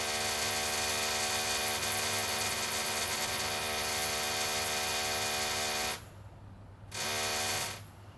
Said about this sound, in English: it's that freaking drill again, and I really don't like that. It's just really noisy